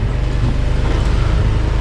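Strong wind buffets the microphone during a motorcycle ride, a loud, continuous low roar and rumble with no breaks and no speech.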